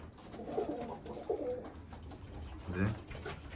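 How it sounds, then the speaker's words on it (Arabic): White Iraqi pigeons coo softly in a loft, a few low rolling calls close by with light background noise and a brief voice. "هاي كلها طيور بيضة"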